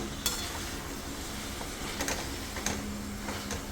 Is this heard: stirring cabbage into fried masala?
yes